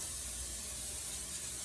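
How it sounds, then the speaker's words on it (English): Olive oil spray is released into a hot pan, making a brief, steady airy hiss close up with no voices over it. "I have a little bit of olive oil spray."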